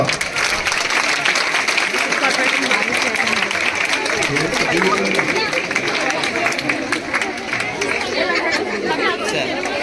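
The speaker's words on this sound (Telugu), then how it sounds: "గట్టిగా చప్పట్లో" Loud, sustained clapping fills a crowded school hall at a Mega Parents Day event in Adoni as a local TDP leader is welcomed, with steady crowd chatter running beneath it throughout.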